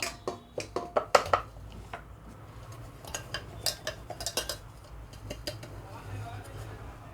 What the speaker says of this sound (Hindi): अब इसको एक बड़े बर्तन में निकाल लेंगे।